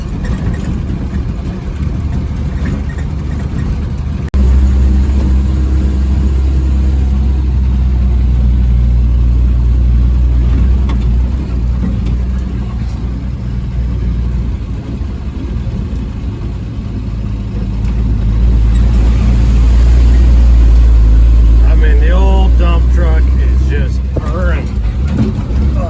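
A 1948 Chevy dump truck engine drones steadily at low pitch while creeping off-road in third gear, loud and continuous throughout, swelling louder near the end, with a voice talking over it at times.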